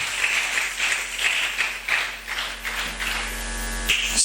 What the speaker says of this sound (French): Acclamons, bien-aimés